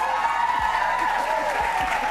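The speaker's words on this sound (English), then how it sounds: "He's enjoying the applause right now." Television studio audience applauds a guest on a talk show, a loud, sustained wash of clapping with a faint voice or two underneath.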